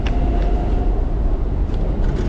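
A metro train rolls into a station with a steady low rumble and a faint whine, close and continuous, with a few brief squeaks over the rumble.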